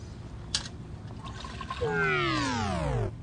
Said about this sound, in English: come back with our 5-quart casserole and finish straining